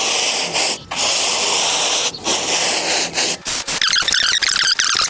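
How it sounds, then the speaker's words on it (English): Stiff brush scrubbing an AC condensing unit's outdoor coil soaked with Simple Green cleaner, a steady close rasping rub with short pauses, turning into quicker, brighter strokes near the end. "I'm going to take my brush, soak it down with Simple Green, and I'm going to give it a little mechanical agitation"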